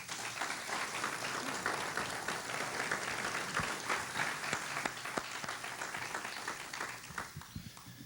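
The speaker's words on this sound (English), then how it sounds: "I hope you would all join me today in giving them a round of applause" Applause from an audience at a 1996 city address honoring the school board, a steady wash of many hands clapping at moderate distance, tapering near the end.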